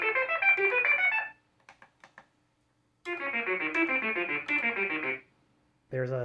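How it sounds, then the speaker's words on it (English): Vongon Replay synth played through the MIDI Goblin arpeggiator, bright rapid cascading notes in bursts separated by a few soft blips and gaps, clear and close. "There's arp-note, which sounds like this."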